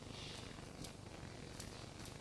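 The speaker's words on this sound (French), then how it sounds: "Le chat dort à côté, c'est bon signe" Soft, steady purring from a cat sleeping close by indoors, a low continuous rumble at quiet volume with faint rhythmic pulses and no talking over it.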